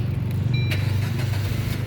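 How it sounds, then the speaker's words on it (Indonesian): A manual Suzuki Ertiga 1.4 car engine turns over and catches, settling into a steady low rumble with a sharp crank burst near the start, close and loud with no talk. "Sekarang kita coba nyalakan mobil."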